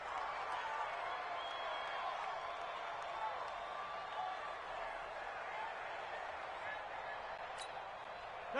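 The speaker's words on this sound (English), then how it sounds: "the crowd getting into it as we come up on a big third down" A stadium crowd in a PS4 football video game buzzes and cheers ahead of a big third down, a steady broad roar at moderate level with faint whistle-like accents.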